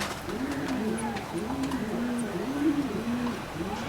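Pigeons in a racing pigeon loft coo in repeated low, rolling phrases, several birds close by with faint chirps above and soft background noise.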